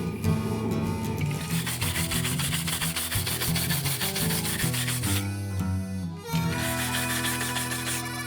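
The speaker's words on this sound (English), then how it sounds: "I'll clean off the bevels, grind them a little bit so I can see the shininess again" A circular saw blade being reshaped into an axe has its bevels ground and cleaned, giving a continuous harsh abrasive rasping with a low motor hum, steady and close, briefly easing near the six-second mark.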